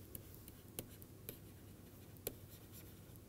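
Chalk taps and scratches on a lecture board, a few sharp clicks spaced irregularly over a faint, quiet room background.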